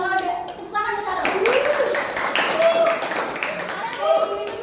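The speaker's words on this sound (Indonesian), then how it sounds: "Kalau ada, tepuk tangan untuk Syarul" Classroom clapping for a student named Syarul during a biology lesson on cells, a short burst of claps from a group of pupils mixed with children's voices talking over it.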